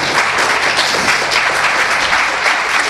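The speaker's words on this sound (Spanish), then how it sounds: "vamos a darle un aplauso a los servidores de esta casa" A church congregation breaks into sustained applause during a Sunday service, a dense, loud wash of many hands clapping in a room.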